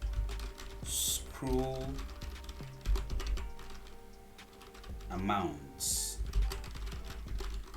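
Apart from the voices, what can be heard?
typing on a computer keyboard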